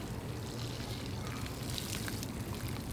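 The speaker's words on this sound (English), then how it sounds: "You can see that water just falling straight through this soil" Water pours steadily onto garden soil while plants are watered in, a continuous moderate splashing and trickling with no speech.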